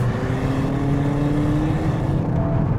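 A 2022 Hyundai Kona N drones loudly under hard acceleration, its steady exhaust note climbing in pitch and then easing off near the end.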